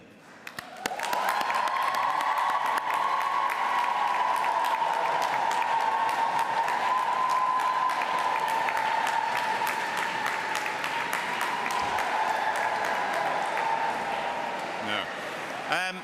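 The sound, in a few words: graduates applauding their supporters in a cathedral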